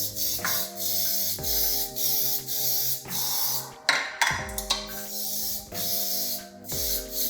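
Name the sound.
cooking spray on muffin tin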